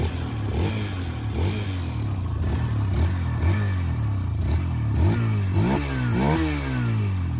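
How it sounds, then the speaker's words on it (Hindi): A Hero Xtreme 160R 4V motorcycle idles close by, then its exhaust rises and falls through several sharp throttle blips, a steady mid-pitched engine note with repeated revving sweeps toward the end. "दोनों ही बाइक की जो एग्जॉस्ट साउंड है वो भी आप लोग सुन लीजिए। शुरू करते हैं विद एक्सट्रीम 160R 4V।"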